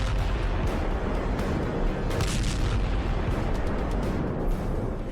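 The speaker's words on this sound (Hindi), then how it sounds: "ये मिसाइल आई और टैंक के ऊपरी हिस्से पर वार किया और फिर देखिए इसमें धमाका होने के बाद टैरेट का क्या हाल होता है" A missile strikes a tank turret and explodes, leaving a heavy, continuous roar of blast and rumbling debris that stays loud and dense throughout, with no voices.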